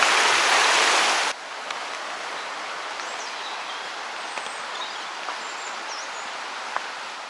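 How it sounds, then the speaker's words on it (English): A small river, the Gizio, flows past a hillside village in Abruzzo, Italy, giving a steady broadband rush of water close by, louder at first then settling into a constant wash with faint bird calls. "Lovely little stream. Or river, I guess."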